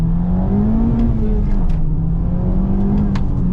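A 10th-generation Honda Civic Type R accelerates hard with turbo boost and VTEC. Its engine tone holds steady and loud and rises slowly for the whole stretch, with faint clicks above and no talk.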